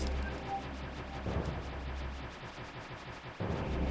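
Samus firing her arm cannon in the game Metroid: Zero Mission: a steady stream of rapid, evenly spaced shots over a low constant rumble of game sound, loud and continuous, with no voices.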